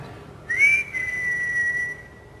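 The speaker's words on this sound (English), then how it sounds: "I'm hearing whistling from behind me now" A single person whistles a short rising then level tone behind someone during a late-night séance at the Morecambe Winter Gardens, clear and fairly close in an otherwise quiet room.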